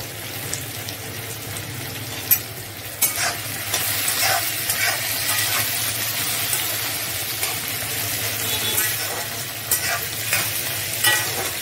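Whole spices, cinnamon, cloves, cardamom, cashews and slit green chillies fry in oil for tilapia curry, giving a steady close sizzle broken by stirring scrapes and clinks, with no talk.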